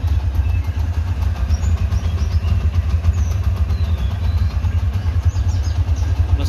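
A Yamaha Verza 150 motorcycle idles nearby, its engine giving a steady, low, even throbbing rumble that carries on unbroken with no other sounds over it.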